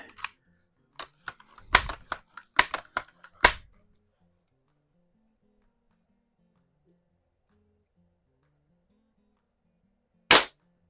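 A Crosman Vapor Max air rifle fires: a cluster of sharp, close cracks and clicks in the first few seconds, then long silence before one final loud snap near the end.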